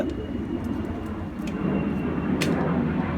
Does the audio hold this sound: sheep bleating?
no